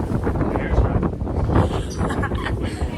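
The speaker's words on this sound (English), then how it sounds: "it was super windy" Strong, gusty wind buffeting the microphone at the hilltop overlook of Sacré-Cœur in Paris on a rainy spring day, a steady loud roar with low rumbling swells throughout.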